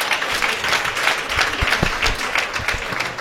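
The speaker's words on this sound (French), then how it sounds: "Applaudissez pour ma fille." Scattered audience clapping at a conference in Cotonou, moderately loud with some distinct individual claps standing out and low rumbling thumps beneath.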